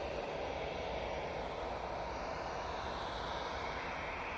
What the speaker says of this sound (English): Ryanair 737 coming in